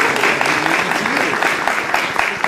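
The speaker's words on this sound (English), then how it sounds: "round of applause for the cast and team and director" Audience applause for the cast, team and director at a theatre night of new plays, a dense, continuous roar of clapping from a full house, loud and close throughout.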